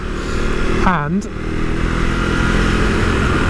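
A Husqvarna Svartpilen 401 engine runs near and loud, a brief rising then falling rev sweep early on before settling into a steady drone, with someone talking over it.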